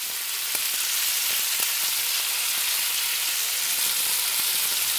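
Pork with ginger frying in a pan for a funchoza noodle dish, a dense continuous hissing sizzle with faint intermittent ticks and pops, close and steady throughout, with no talking.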